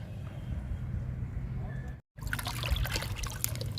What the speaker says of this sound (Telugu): ఈ పెద్ద బకెట్ని మొక్కల దగ్గరికి మొయ్యలేమండి, అందుకని చిన్న బకెట్లో పోస్తున్నా